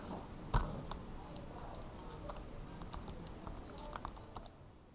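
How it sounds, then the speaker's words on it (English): Numbers keyed into a calculator during a math lesson: scattered light plastic taps and clicks, some in quick runs, over a steady hiss, with a soft thump near the start and no one speaking. "On our calculator, let's type in sine of 130, and then we'll divide it by 15."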